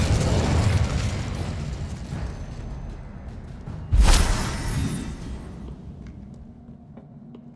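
An Incendio fire spell is cast in the Hogwarts Legacy game during a giant knight boss fight, with one sharp, loud fiery burst in the middle over rumbling battle noise that fades away afterward.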